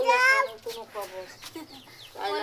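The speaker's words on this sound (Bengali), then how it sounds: "এই যেগুলো হচ্ছে আমার মুরগি" Backyard chickens in a rural village cluck and squawk nearby in short, irregular calls through the whole stretch, with a voice mixed in among them.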